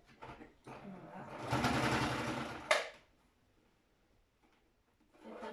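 Home sewing machine stitching a fabric face mask, a steady close mechanical whir of about a second and a half that ends in a sharp click, with someone speaking before and after it.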